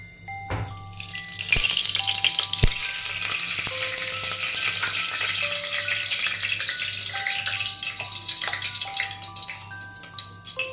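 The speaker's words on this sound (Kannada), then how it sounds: "ಇವಾಗ ಕುಕ್ಕರ್ ಕಾದಿದೆ ಸೊ ಇಲ್ಲಿಗೆ ನಾವು ಎಣ್ಣೆನ ಆ್ಯಡ್ ಮಾಡ್ಕೊಳ್ಳೋಣ" Oil sizzling in a hot pressure cooker while chicken ghee rice is cooked, a continuous close hiss broken by sharp metallic clinks and scraping, with no voices.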